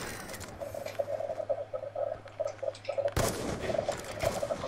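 Rapid, crackling bursts of gunfire from bots shooting at the player in a shooter video game, fairly close and sustained, becoming louder and denser in the last second and a half.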